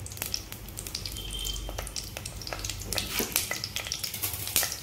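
Bay leaf, cloves and fennel seeds sizzle in hot oil in a pan for a vegetarian temple-style sabji, a close, crackling fry with sharp pops and spits over a low steady hiss.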